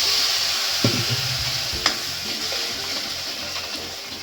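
Hot water is poured into a pan of sizzling spice masala of turmeric, red masala, garam masala and coriander powder for a sprouted moth bean curry. It makes a continuous hiss and bubbling sizzle with a few sharp splashes and clinks.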